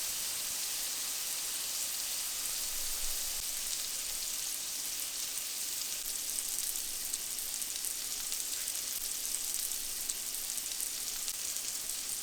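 Burger patties fry steadily in a pan, giving off a dense, even sizzle that holds at a constant level from start to finish with no voices over it.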